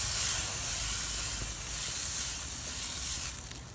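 The fatty edge of a steak sizzles on a grill with a loud, continuous hissing crackle that holds steady, then eases slightly near the end.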